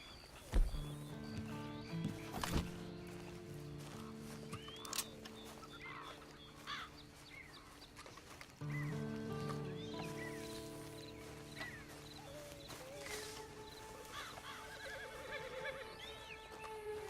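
A horse whinnies loudly near the start in Red Dead Redemption 2, then hooves clop at a slow walk over a steady musical backdrop with occasional birdsong.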